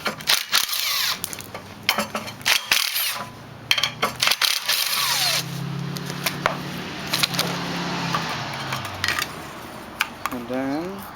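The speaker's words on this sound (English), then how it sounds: "Alright, so I'm gonna take this heat plate off." Metal clinks, clatters and tool scrapes from removing a heat plate off a Nissan Sentra B15 engine during a header install, close and fairly loud, with a steady background hum.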